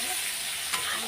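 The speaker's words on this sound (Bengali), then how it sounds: "পেঁয়াজটা লাল লাল করে আগে ভেজে নিই।" Onions frying in a pan for a Bengali fish curry, a steady, close, even sizzle with a faint stir partway through, no voices.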